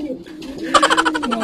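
Pigeon cooing inside a racing-pigeon loft in Calapan, Mindoro, with a bird that has slipped under plastic sheeting; soft repeated coos swell up near the mic in the second half over a low background murmur.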